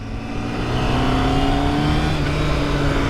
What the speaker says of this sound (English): just accelerating there from like 25 in second gear, full throttle